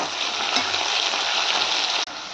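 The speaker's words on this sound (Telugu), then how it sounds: "ఆవాలు జీలకర్ర వేసాను కదా, అది అలా వేగుతుంది" Onion and ivy gourd fry in hot oil with mustard seeds and cumin, giving a loud, dense, continuous sizzle close by that dips briefly for a moment near the end.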